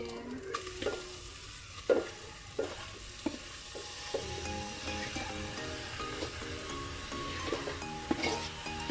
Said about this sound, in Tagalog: habang ginigisa yung langka na rin